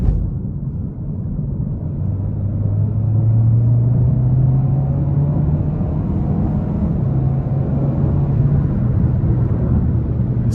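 Engine drone inside a 2021 Kia K5 LX with the 1.6-liter turbo four as it accelerates to high RPM, a loud, steady roar whose pitch climbs smoothly and then holds.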